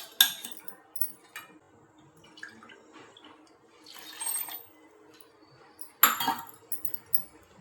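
A spoon stirs jowar flour and water into a thin paste in a small bowl, giving sparse metallic clinks and soft wet scraping in short bursts, close and quiet with pauses between.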